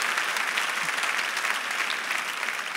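Church congregation applauds continuously, a dense, even wash of many hands clapping close and fairly loud throughout, with no voices over it.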